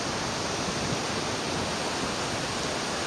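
Cheonjiyeon Waterfall on Jeju Island roars down into its wide gorge in a dense, unbroken rush of falling water that stays steady and full, with no voices over it.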